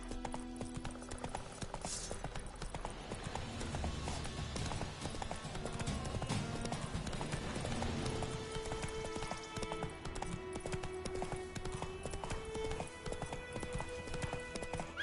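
Horse hooves clip-clop at a steady trot while riding in The Witcher 3, with a dense game soundtrack and faint rain-like patter layered underneath throughout.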